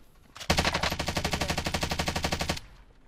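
A sustained burst of rapid automatic gunfire from Call of Duty Warzone rattles for about two seconds, loud and close, with an even fast rhythm and no talk.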